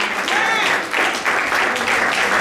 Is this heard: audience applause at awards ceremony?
yes